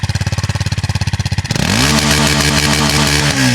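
Kawasaki KLX 230 motorcycle engine heard close up, first a fast pulsing idle, then a sharp rev that rises into a sustained loud high-pitched drone.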